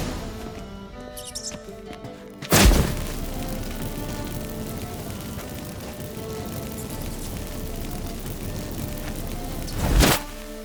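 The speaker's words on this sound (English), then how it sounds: "Get ready for some magic fireworks." Magic fireworks effect set off by incense in The Witcher 3 video game: two loud sudden bursts, one near the start and one near the end, with a dense crackling, rumbling wash of effects between them.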